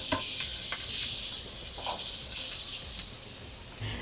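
Onions, ginger and garlic hit hot oil with toasted spices for a vegan butter chicken curry base, giving a steady close-up sizzle with faint crackles and occasional stirring, no voices.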